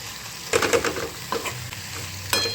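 A spoon stirs a vegetable mixture with crushed peanuts in a pan, giving a few scraping strokes over a soft sizzle, close and moderately loud with no talking.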